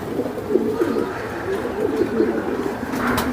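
Continuous low cooing from racing pigeons on a pigeon farm close by, overlapping warbles rolling on without pause over faint background noise.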